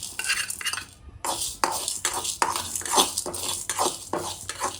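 Urad dal and chana dal dry-roasting in a pan, stirred with a metal spoon that scrapes and clinks against the pan in a steady series of close strokes.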